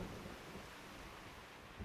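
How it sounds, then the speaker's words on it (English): In the video game Diluvian Winds, a thunderstorm with heavy rain makes a faint, steady wash of downpour with low rumbling beneath, continuous and distant throughout. "The storm rages."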